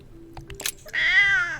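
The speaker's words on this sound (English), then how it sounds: "If you want to make a big meow, though." A house cat lets out one loud, drawn-out meow close to the microphone, preceded by a few faint clicks and shuffles.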